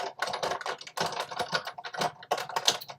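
A die-cutting machine feeds paper and a cutting die through its rollers, producing a close run of rapid clicking, ratcheting bursts that come in uneven clusters for a few seconds.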